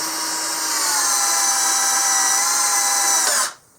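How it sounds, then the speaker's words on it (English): A Harbor Freight Warrior drill whines at steady high speed driving a screw through two 2x4s, then stops abruptly, loud and close, with no voices. "if this drill can put this through two 2x4s without much effort"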